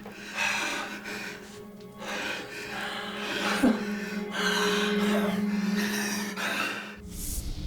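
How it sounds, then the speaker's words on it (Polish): A man begins breathing on his own again, heard as close gasps, snorts and labored breaths, with faint speech nearby. "Piotr zaczął samodzielnie oddychać."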